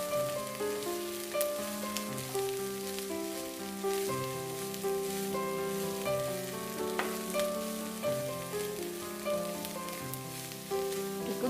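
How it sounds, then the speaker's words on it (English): Finely chopped cabbage fries and is stirred in a pan, giving a steady soft sizzle beneath continuous background music. "Cook this cabbage, it will take 5 to 6 minutes."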